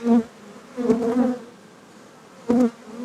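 Honeybees from a colony on ten frames buzz close by in short, separate bursts, with a steady low hum between the louder swells.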